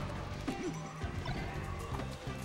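A forward smash landing in a Super Smash Bros. Melee match, a sharp crash-like hit near the middle of a steady wash of game noise and crowd ambience.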